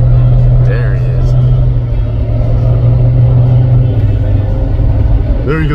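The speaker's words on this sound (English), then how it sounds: "drifting the old cab over" A 1979 International cabover truck's engine drones loudly and steadily while the truck drifts, a deep, heavy rumble that runs throughout under people talking.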